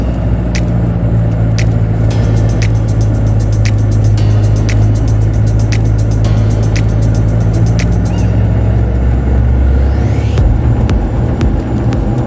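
A car cruises steadily along a road, its engine a constant loud rumble with a brief shift in tone near the end and no talk.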